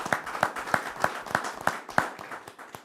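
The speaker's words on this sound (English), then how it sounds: "we ought to just applaud that." An audience at a UT Martin advisory board meeting claps in a steady, evenly spaced rhythm, moderately loud and with no talking over it.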